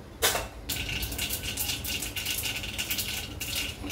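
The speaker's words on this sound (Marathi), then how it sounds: "मोहरी तडतडून घेऊया" Mustard seeds spluttering in hot oil in a kadai, a dense, continuous crackling and popping that starts abruptly and keeps up steadily, close by and with no talking.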